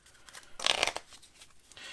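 Vintage collectible playing cards riffle together in a quick burst of crisp flutter, close and fairly quiet, then settle into soft handling noise.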